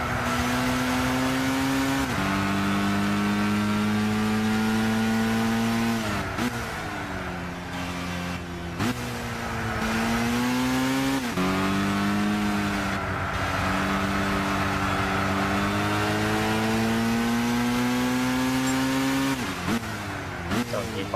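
A high-revving Japanese 1990s car engine in Gran Turismo 6 wails loudly and steadily, climbing through gears with sharp drops at each shift, while a voice talks over it throughout.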